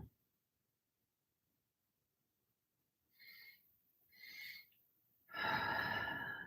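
Yoga breathing in a quiet room: two soft, airy inhales around the middle, then a louder, fuller exhale with an open ah-like voiced quality closing the sequence, with no talking over it.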